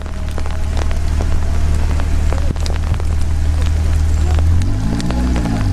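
Heavy rain pattering steadily on surfaces close by, with a low rumbling wind and scattered drips throughout, during an off-road drive through mud and swamp.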